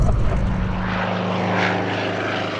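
A vintage propeller airplane flies past with a loud, steady engine drone and a rough propeller buzz, its low rumble fading slightly as it goes by, with no voices.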